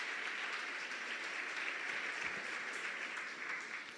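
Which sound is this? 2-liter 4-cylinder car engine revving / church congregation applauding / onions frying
church congregation applauding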